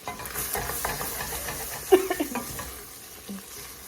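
Meat browns in a hot frying pan in a home kitchen while it is stirred, giving a steady close sizzle with scraping and clatter from the utensil and a few sharper pops near the middle.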